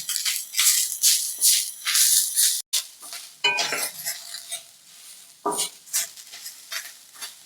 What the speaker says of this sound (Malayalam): തേങ്ങ ചെറുകിയത് പ്ലസ് ഒരു നാല് കൊച്ചുള്ളി ഏഹ് അതിലോട്ട് ഇട്ട് കൊടുക്കണം ലോ ഫ്ലെയിമിൽ ഇട്ട് വേണം കേട്ടോ നമുക്കിത് വറക്കാൻ